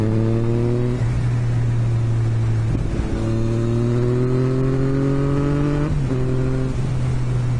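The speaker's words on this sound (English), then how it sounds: "this bike just sounds absolute awesome" Yamaha XSR900 motorcycle engine revving loudly and close by, rising in pitch in several sweeps with brief dips near one, three and six seconds, steady throaty tone throughout and no talk.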